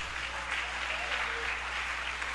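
A church congregation at a Bible school service in Fortaleza applauds in a steady, dense wash of clapping that fills the whole stretch, with faint voices mixed beneath.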